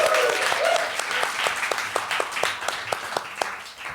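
Audience applause at the start of a casting director panel in a theater, a dense steady wash of many hands clapping with sharp individual claps standing out, fairly close and sustained throughout.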